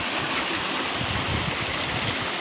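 A waterfall in Laguna pours continuously, a dense, steady broadband rush of falling water heard close and alone without any voices.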